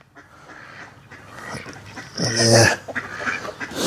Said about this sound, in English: What is that noise, chicken? Huh? Oh, that's a duck.